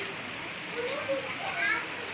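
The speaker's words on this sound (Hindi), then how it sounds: "5 बजे लग गई थी आज बारिश।" Heavy rain pours steadily outdoors near a home, a dense continuous hiss of drops striking surfaces, with faint voices in the background.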